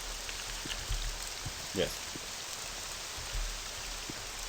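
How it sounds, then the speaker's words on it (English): Steady hiss of rain pours down in the video game Morrowind, a dense even wash filling the scene while a voice speaks briefly over it. "It reminds me of the rain back in Cyrodiil."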